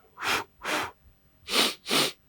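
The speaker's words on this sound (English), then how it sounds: "You're breathing out through your mouth too." Four forceful breaths pushed out through the mouth during a walking qigong blowing exercise, heard up close. They come as two evenly spaced pairs of airy bursts, each about a quarter second long, with short quiet gaps between them.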